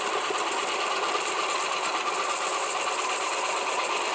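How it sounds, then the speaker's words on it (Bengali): A vegetable slicing machine cutting whole cucumbers into round slices gives a steady, dense mechanical whirring buzz throughout, close and fairly loud with no talking. "সম্পূর্ণ শসাগুলো আমি এখান থেকে দিব আর স্লাইস হয়ে বের হবে দেখেন কি সুন্দরভাবে স্লাইস হচ্ছে"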